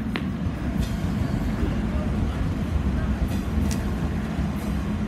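A BNSF passenger train rumbles past nearby in a steady, loud roar of wheels and rail noise, with occasional sharp squeals and clicks and people talking over it.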